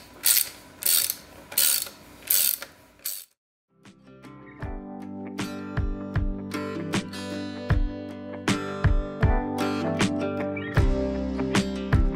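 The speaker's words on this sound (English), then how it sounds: "We'll torque them to 10 pounds first, and then we'll torque them to the final pounds." A torque wrench ratchets while tightening crankshaft bolts on a 1997 Polaris XLT 600 triple snowmobile engine: a run of loud rhythmic clicks, a brief pause, then dense metallic ratcheting strokes close up with no talking.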